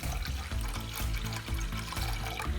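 Water pours steadily into a pot for gulab jamun sugar syrup, a continuous close splashing gush with a resonant, ringing tone.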